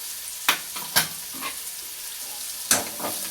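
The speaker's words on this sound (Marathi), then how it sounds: "परत असं सगळं मिक्स करून घ्यायचं।" A cluster bean curry with chilli powder and onion-garlic masala is mixed in a frying pan: three or four sharp scraping strokes over a continuous sizzle, close and without speech.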